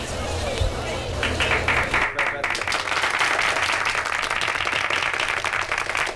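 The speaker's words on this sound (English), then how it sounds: "Okay, cut off the applause." A school audience at an elementary school assembly applauds with steady clapping and crowd hubbub that shifts midway, continuing as a broad wash of hands under a voice.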